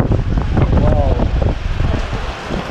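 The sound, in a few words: strong wind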